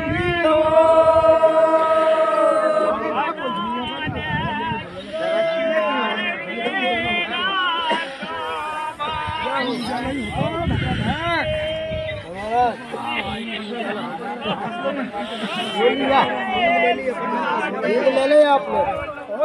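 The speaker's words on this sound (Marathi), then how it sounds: "गर्दी खूप आहे" A large crowd of pilgrims waits at a creek-side landing for a boat crossing from Vimaleshwar to Mithi Talai, a loud close babble of many voices overlapping continuously, with nearby voices chatting over it.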